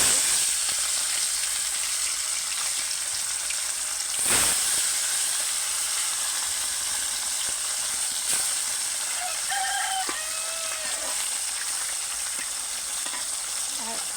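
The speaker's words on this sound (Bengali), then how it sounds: "এই যে এখন মাছের মাথাগুলো আগে দিয়ে বেজে" Tilapia fish heads fry in hot oil in a pan, a steady loud sizzle that continues throughout, with faint stirring and a rooster crowing in the background.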